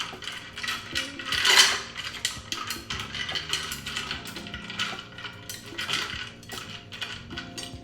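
A spoon clinks and rattles against ice and glass while stirring a Bloody Mary cocktail, with bright, irregular metallic taps that continue steadily up close and no talking.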